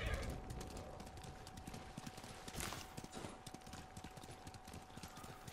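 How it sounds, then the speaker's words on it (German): Horse in the video game Ghost of Tsushima, its hooves clip-clopping in a quick gallop rhythm with a neigh partway through, all fairly quiet. "Pferd!"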